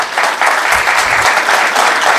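Sustained audience applause at an awards and felicitation ceremony honouring student article writers, a dense steady patter of many hands clapping close by throughout.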